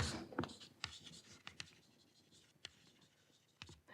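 Chalk or marker writing on a board during a mathematics lecture on Lagrangian Floer theory, heard as a string of short scratchy strokes and taps spread across the room, fairly quiet with pauses between marks.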